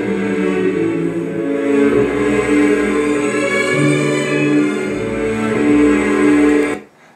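An orchestra plays a lyrical Brahms melody from the Second Symphony, a sustained, warm passage that swells steadily for several seconds before cutting off abruptly.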